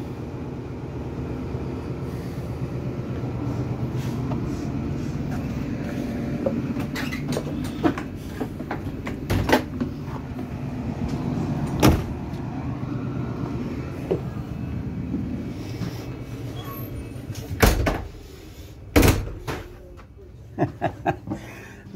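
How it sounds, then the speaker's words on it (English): Doors slam shut on an XPT passenger train at Grafton station in New South Wales, sharp bangs near the end over a low idling rumble and platform ambience. "I shut the doors for him."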